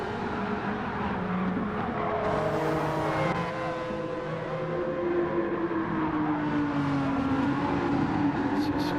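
Group 3 race cars circle a track in the video game Gran Turismo 7, engines droning and shifting pitch under continuous overlapping motor noise as cars pass and accelerate, with a commentator's voice faintly in the mix.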